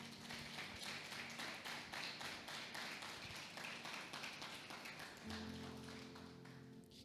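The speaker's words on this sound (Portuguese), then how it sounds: "Você pode aplaudir Jesus por isso?" A church congregation at an evangelical Sunday service claps for Jesus, a steady dense wash of many hands sustained throughout, with soft held keyboard-like tones underneath.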